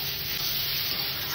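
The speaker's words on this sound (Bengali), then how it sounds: "এবার আমি এর মধ্যে লবণটা মিক্স করে দেব স্বাদ অনুসার। একটু নেড়ে দিতে হবে।" Salt is stirred into a homemade dish frying in a pan, giving a steady, close, even sizzle that holds without a break and with no voices.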